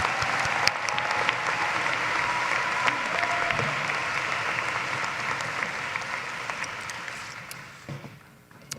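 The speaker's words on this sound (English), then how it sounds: "Let's give a round of applause for our Information Systems and Analytics graduates." Sustained applause from a large arena crowd at a university commencement ceremony in Gentile Arena, honoring business graduates; dense, steady clapping that slowly thins and fades near the end.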